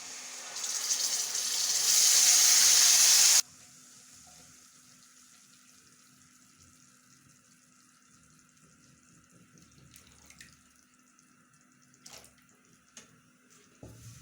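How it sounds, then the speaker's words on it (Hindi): Sugar syrup poured into semolina halwa in a pan, a loud gushing, sizzling pour for about three seconds that stops abruptly, followed by quiet faint stirring and small clinks. "इस स्टेप पे इसमें शीरा डाल रही हूँ।"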